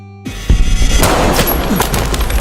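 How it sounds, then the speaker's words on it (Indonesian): Loud, rapid movie gunfire erupts after a brief quiet moment, a dense close-range volley of shots that continues without pause. "anak buahnya datang melepaskan tembakan"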